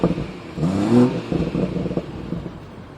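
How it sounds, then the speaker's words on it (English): A 2017 BMW 1 Series M140i Shadow Edition with its 3.0-litre 335 bhp engine revs up sharply, peaks around the first second, then settles into a rumbling idle with a few blips, close and alone. "it wouldn't be fair not to demonstrate the noise of this car"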